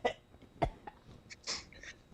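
A woman on a live-streamed talk show gives a few short, separate coughs and clears her throat, close but fairly quiet, with small breathy noises in between.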